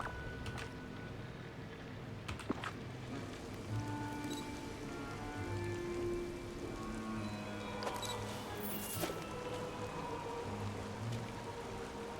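Soft steady rain falling in the video game Disney Dreamlight Valley, a faint continuous patter with occasional light clicks and game tones over it, no talking.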